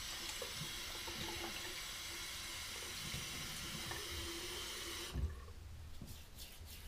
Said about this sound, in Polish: Ja dodaję na rękę jeszcze trochę wody.